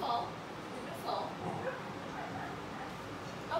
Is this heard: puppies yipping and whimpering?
yes